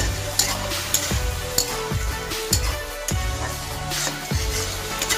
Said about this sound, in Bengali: এবার এটাকে আবারও ভালো করে আমি মিশিয়ে দেবো এইভাবে